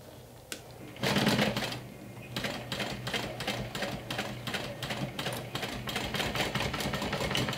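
A sewing machine runs close and loud, stitching a seam in a crossbody bag with rapid rhythmic needle clatter after a short pause at the start, steady to the end with no talk.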